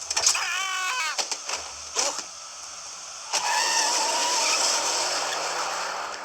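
A car in a car-theft driving video game with cartoon sound effects: a sharp screech and engine revving, then a sustained skidding rush with tire squeal, loud and close.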